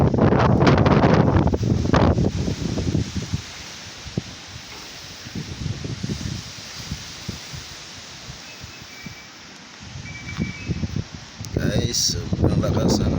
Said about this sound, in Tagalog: sobrang lakas ang hangin